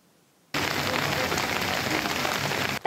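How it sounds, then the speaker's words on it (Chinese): Heavy rain pours down steadily and loudly during a frontal thunderstorm in northern Taiwan, a dense continuous roar that starts abruptly after a brief quiet moment. "大雨哗啦哗啦下个不停"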